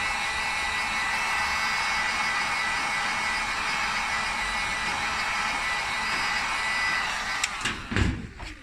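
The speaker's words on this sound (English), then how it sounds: "We're going to heat it up just to allow for the toner to get picked up nice and easily." A steady, loud blowing whoosh of hot air aimed at an old ABS plastic hard helmet, heating it before toner printing. It runs unbroken for several seconds, then ends in a few knocks and clunks.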